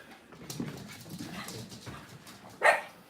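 A pet dog whimpers and whines to be let outside, several short breathy whines and yips close by, ending in one louder high whimper, with no talking.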